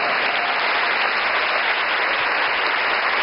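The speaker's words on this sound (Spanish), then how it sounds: "Denle un aplauso a esta palabra." Steady applause from a church congregation during a sermon, a dense even wash of clapping that holds at the same level throughout with no voices over it.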